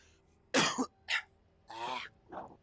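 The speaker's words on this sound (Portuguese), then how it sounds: "Tosse." Several dry, close coughs in quick bursts, with a throat-clearing rasp mixed in; no talking.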